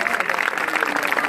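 Brief, dense burst of audience clapping at a public address, a steady close rattle of many hands throughout.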